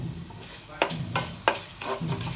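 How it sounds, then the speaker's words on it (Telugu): Fenugreek and coriander seeds roasting in a tablespoon of oil in a pan on a stove, a steady low sizzle broken by several sharp stirring scrapes at regular intervals, close and alone with no talk. "స్టవ్ మీద పాన్ పెట్టేసుకొని 1 టేబుల్ స్పూన్ ఆయిల్ వేసుకోవాలి నెక్స్ట్ మెంతులు ధనియాలు వేయించుకోవాలి"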